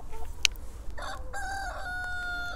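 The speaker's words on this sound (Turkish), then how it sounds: "Horozlar da var içinde." A rooster crows among young Leghorn hens on a free-range chicken farm, one drawn-out call rising over soft background clucking and a brief sharp chirp, fairly close and clear.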